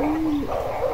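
A young Keb Marati racing pigeon gives a single close, clear coo with a gently rising and falling pitch, alone and without any voices.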